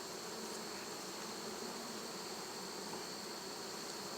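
Honeybees buzzing steadily in a dense, close swarm during a hive inspection, a continuous high drone with no voices.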